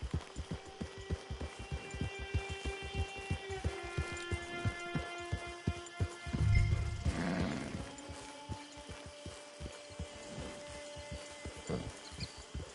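Galloping horse hooves in Red Dead Redemption 2, a steady run of sharp, evenly spaced clip-clops close by, with a louder whoosh of movement partway through and game music underneath.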